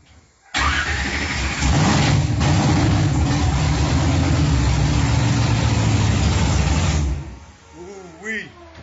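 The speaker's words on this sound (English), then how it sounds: "I hate to whoop up my old farm truck" An old farm truck engine roars up at close range and holds a loud, steady rumbling rev for several seconds, then dies down as a voice whoops briefly at the end.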